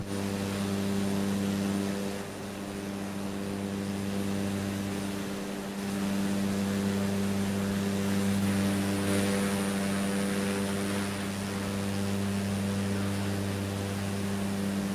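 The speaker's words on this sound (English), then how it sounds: "Let me turn down the engine noise a little bit" Propeller aircraft engine in Microsoft Flight Simulator near Green Bay, a steady loud drone with strong low harmonic hum and airy rush, continuous and unchanging apart from a brief dip.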